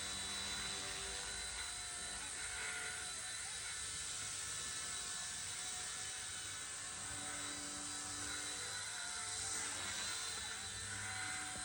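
A Rage RC Volitar X radio-controlled helicopter flies nearby, its rotors and motor making a steady, high-pitched whirring drone that holds level throughout.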